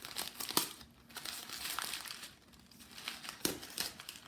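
Tape crinkles and rips faintly as it is wound around a clay bust armature, soft rustling with a couple of sharper tearing snaps, no talk.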